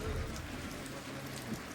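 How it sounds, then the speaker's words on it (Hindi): Rain falling steadily outside a shop, a soft continuous hiss of drops on surfaces, quiet and even, with no voices. "बारिश तो है"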